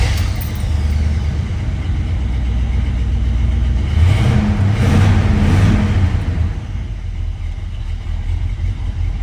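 The big-block V8 of a 1972 Chevrolet Chevelle rumbles loudly and steadily, swelling with a couple of throttle blips in the middle before settling back to a deep, even idle.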